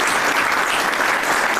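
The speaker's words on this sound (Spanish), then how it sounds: "les pido un caluroso aplauso de la población aquí representada para ellos" Warm, dense applause from a gathered crowd at a governor's inauguration ceremony in San M, steady and continuous for the whole moment with no break.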